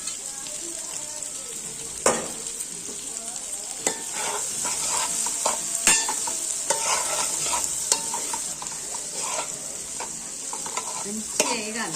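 Boiled, cleaned goat tripe cut into small pieces fries in a pan with a steady, close sizzle, while a utensil stirs and scrapes through it, producing repeated sharp clinks and scrapes throughout.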